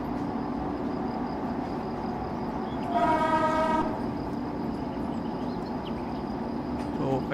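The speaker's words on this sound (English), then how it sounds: "So finally our train is coming." An Indian express train in Train Simulator rolls in under a constant low rumble, its horn sounding one sustained harmonic blast for about a second midway, loud and steady against the running noise.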